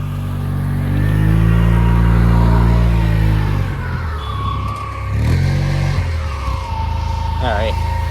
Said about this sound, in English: Oh, we got a snow clearing vehicle here.